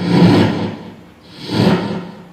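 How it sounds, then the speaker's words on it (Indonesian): Two slow, heavy scraping swishes, like a large door being pushed open, each lasting about a second, loud and close with no voices. "Pintu kuilnya dibuka."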